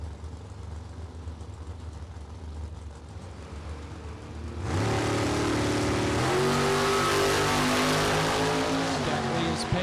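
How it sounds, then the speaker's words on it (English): Drag race cars at the World Super Pro Challenge launch and roar down the track, a loud rising engine howl suddenly overtaking steady crowd noise, with an announcer talking over the action. "Will Steckley will have to sit there for 3 seconds as watching that land barge head down track"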